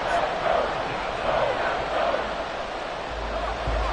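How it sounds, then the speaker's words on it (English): A video game American football crowd, Packers versus Patriots, cheers in a continuous, dense roar that holds steady throughout. "Well, this crowd is making an impact right now."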